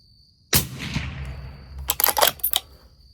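A single suppressed AIAX .308 rifle shot fired at night, a sharp muffled crack with a short decaying tail, followed by quick metallic clicks and rattles of the bolt being worked close by.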